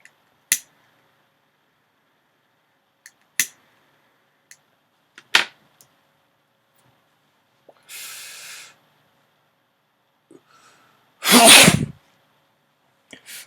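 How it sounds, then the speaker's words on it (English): A few sharp, isolated sneezes and snorts spaced out across quiet stretches, close to the microphone, with one louder, fuller sneeze near the end. "I'm sneezing and shit."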